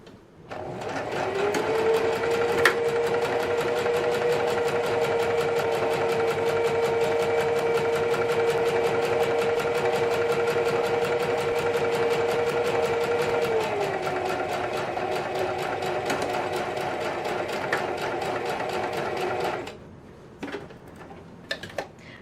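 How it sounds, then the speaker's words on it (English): Sewing machine edge stitching the flap of a fabric 3D octagon origami face mask, a continuous close, loud rapid whirring hum for about twenty seconds before it slows and stops, with a few handling clicks at the end. "now we're going to edge stitch this flap."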